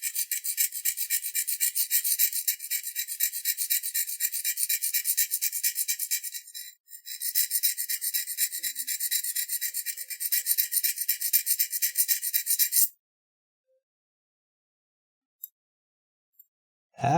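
Sharp finger hole edge being scraped smooth, a close, steady rasping scrape in quick strokes for about thirteen seconds with a brief pause, then near silence.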